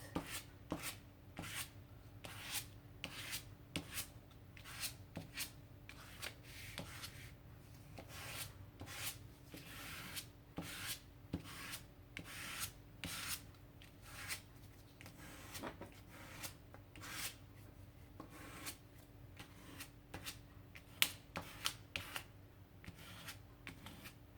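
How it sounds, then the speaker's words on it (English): A plastic card is dragged through paint across a mini journal page, making a long series of soft, close scraping and rubbing strokes in an irregular rhythm, quiet and without talk. "Taking plastic card and starting smearing it."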